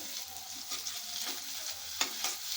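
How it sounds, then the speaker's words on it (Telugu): Ginger garlic paste fries in hot oil with onions and turmeric for a ridge gourd curry, a steady close sizzle with soft stirring scrapes throughout and a brief sharper clink near the end. "అల్లం వెల్లుల్లి పేస్ట్ నూనెలో వేయించాలి, పచ్చి వాసన పోయే వరకు"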